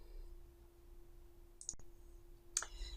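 A computer mouse gives a couple of sharp, close clicks over a faint steady hum, with no talking.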